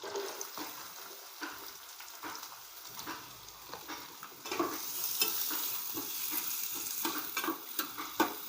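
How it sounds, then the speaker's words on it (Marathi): Onion fries in hot oil with cumin seeds for a Marathi paneer masala, a close, continuous sizzle broken by stirring scrapes that grows louder and denser partway through. "कांदा चांगला लाल होईपर्यंत तळून घ्यायचा आहे"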